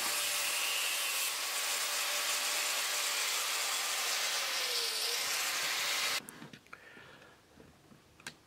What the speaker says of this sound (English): we need to thin out this hacksaw blade, split this in half